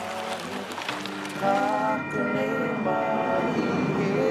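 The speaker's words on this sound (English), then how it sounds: "Trains, traffic, people." A train passing near Waikanae on the New Zealand coast, with rumbling wheels and tonal squeals and hums from the cars, fairly close and steady over several seconds.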